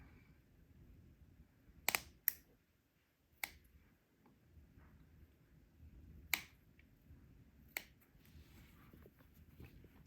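Scissors snip notches into a fabric seam allowance near a sewn collar and neckband, a handful of sharp, quiet clicks spaced irregularly over near silence.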